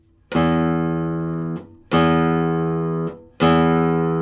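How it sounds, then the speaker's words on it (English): Three plucked classical guitar notes ring out one after another, each starting with a sharp fingernail click on the string that blends into the sustained tone. "You hear the click first, followed by the note."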